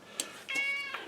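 A cat named Cubit meows three times in the background, the middle call long and tonal and the outer two short, fairly faint in a quiet room during plastic model building.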